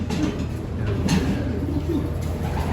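Breeder pigeons in a loft coo softly and steadily throughout, their low murmuring calls blending into continuous background noise with no talking.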